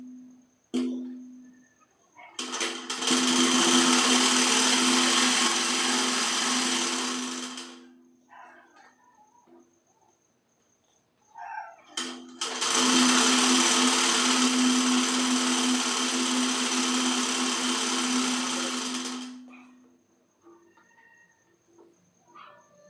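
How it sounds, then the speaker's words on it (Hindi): A sewing machine runs in two long bursts of several seconds each while stitching the side seam of a kurti, a loud steady whirring motor hum with quiet pauses between and no talking. "अब चलिए दूसरे साइड भी सिलाई लगा"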